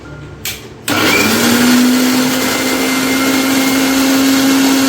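A blender grinds palm fruit into paste, starting with a brief jolt and then holding a loud, steady whirring motor hum with a sustained whine until the end.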